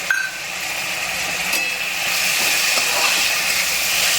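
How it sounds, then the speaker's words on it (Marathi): Soaked dal tipped into a pan of fried onions for Maharashtrian cabbage bhaji, a loud continuous hissing sizzle that holds steady throughout, with a faint clink near the start. "मी आता याच्यामध्ये डाळ घालून घेते भिजवलेली"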